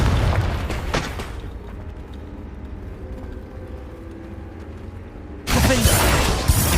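A Confringo fire spell in Hogwarts Legacy bursts with a sudden loud broadband blast, first near the start and then again near the end. Rumbling low-level game ambience fills the quieter stretch between.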